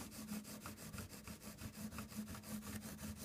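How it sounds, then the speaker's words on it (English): Guitar fret tops polished by rubbing flat along the fingerboard, a soft rhythmic back-and-forth scrubbing repeating about every quarter second, close and faint with no voices. "we're just going to go flat along the fingerboard, mostly trying to polish the fret tops"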